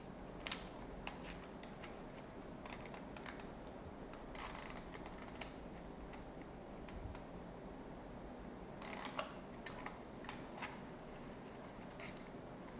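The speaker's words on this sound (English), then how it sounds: "press this button and turn this film rewinder" A Kodak Ektar H35 film camera's rewind crank being turned clockwise to wind film back into the canister, giving faint, irregular ticking and clicking bursts in quiet surroundings.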